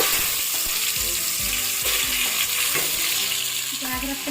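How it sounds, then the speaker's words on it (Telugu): Chicken pieces with curry leaves fry hard in hot oil, a loud, dense, continuous sizzle with occasional stirring scrapes close by. "దీంట్లో ఇప్పుడు నేను చికెన్ పీసులు వేసుకుంటున్నానండి"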